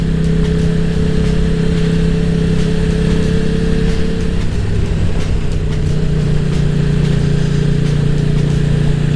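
KTM motorcycle engine idling close by in a living room converted into a garage, a loud steady rumble with a slight shift in pitch midway, no speech.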